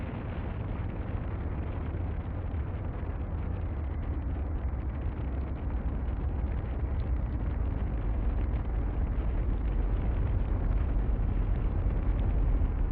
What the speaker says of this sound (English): Fusion propulsion jet engines firing.